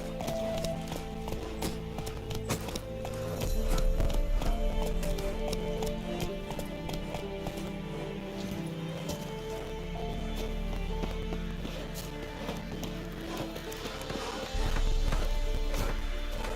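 Roach the horse's hooves in The Witcher 3, a steady clip-clop at a trotting pace over a bed of game music, with brief horse snorts and a faint voice in the background.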